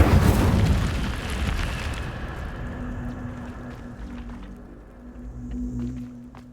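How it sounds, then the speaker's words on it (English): A fiery Incendio spell bursts in Hogwarts Legacy, a loud roaring blast that fades into a crackling rumble with a low steady hum over several seconds. "Incendio."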